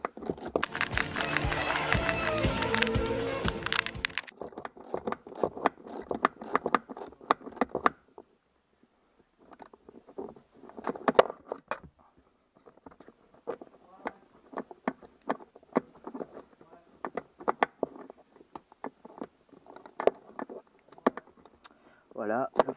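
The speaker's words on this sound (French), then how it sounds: "je vais enlever l'écrou entièrement" A long wrench works a nut loose on a Peugeot 309 GRD diesel during fuel tank removal, giving scattered metallic clicks, clanks and tool taps close by in a quiet garage, with dense mechanical noise at the start.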